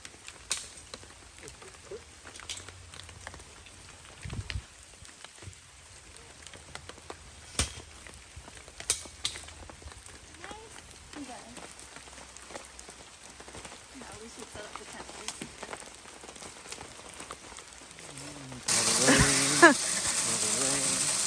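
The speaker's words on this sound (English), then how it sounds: "because it started raining again" Light rain patters steadily on a campsite near Big Sur, with scattered sharper drops, then grows much louder and denser near the end.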